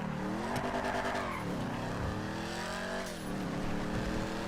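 A car drifting in the GTA Online video game, its engine note rising and falling with two gear-like dips while tire squeal hisses steadily through the whole stretch, loud and continuous.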